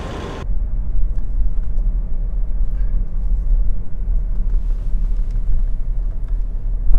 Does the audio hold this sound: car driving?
yes